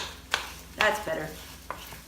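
A bamboo spoon stirs melting cream cheese in a pan, giving a few short scraping strokes with a faint sizzle underneath, close and moderately quiet.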